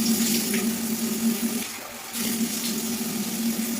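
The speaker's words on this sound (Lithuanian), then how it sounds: "Ir dabar nuplaunu. Vanduo turi būti drungnas, ne karštas," Lukewarm tap water runs steadily into a sink while a face is rinsed, a continuous close splashing flow with a brief dip in the middle.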